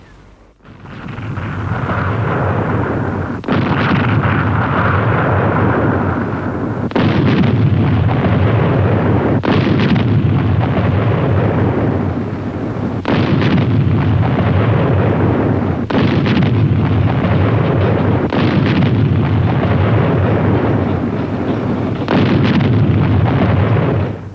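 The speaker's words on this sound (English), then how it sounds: "The siege guns stayed." Heavy siege artillery of the German forces on the Leningrad front fires repeatedly, each loud booming blast rolling into the next in a dense, continuous barrage with no voices.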